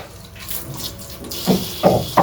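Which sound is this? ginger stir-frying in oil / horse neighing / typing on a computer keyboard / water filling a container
water filling a container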